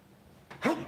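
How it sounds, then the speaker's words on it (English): A single close, sudden sneeze with a rough cough caught in it bursts out after a moment of quiet room tone, from someone speaking on a morning talk show. "I've sneezed several times this morning, and I don't know if you caught it. That sneeze had a cough in it."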